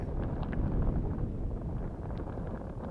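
Wind gusting across Pennine Way peat moorland in winter, a steady loud rumbling buffet dominating throughout with slight surges, close and unbroken, with no voices.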